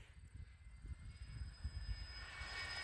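A Freewing A10 RC jet with twin 80mm electric ducted fans flies past, a faint, distant whine and rushing air that slowly swells, partly masked by wind buffeting and low rumble.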